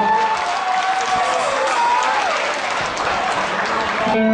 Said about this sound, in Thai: ขอเสียงปรบมือหนึ่งหน่อย